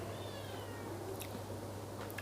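A faint, drawn-out cat meow rises briefly over a steady low hum, with quiet background noise throughout.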